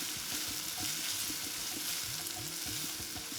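Peppercorns and onions frying for jeera rice while being stirred, a soft steady sizzle under a regular rhythm of spoon scrapes against the pan, fairly quiet and close.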